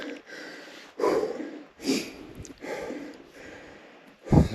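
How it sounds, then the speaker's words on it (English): Heavy, labored breaths and exhalations from a hiker climbing a steep mountain slope, coming in repeated close bursts about a second apart with one sharp loud puff at the end. "Sorry for the heavy breathing."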